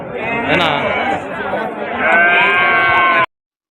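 Young three-month-old red rams bleating at the Mydukur livestock market, several overlapping close, loud calls amid crowd chatter and people talking.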